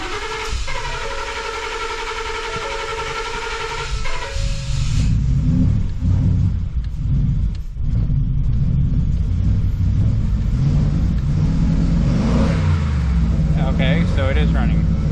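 A truck engine idles with a low rumble and hiss, starting after a few seconds of tonal beeping; people talk over the running engine. The truck shows a wrench light and check engine light.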